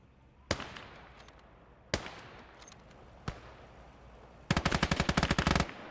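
Gunfire from the Gates of Hell Ostfront video game: three single, sharp shots spaced over a few seconds, then a rapid machine-gun burst, all loud and close with no talking.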